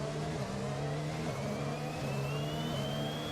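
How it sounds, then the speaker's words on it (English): A Formula 1 car in the F1 2021 racing game, with a broken gear, revs steadily with a dense stack of engine tones and a thin gear whine rising above them, loud and continuous with no voices. "When I started revving in the car, you can hear which the gear that's broken."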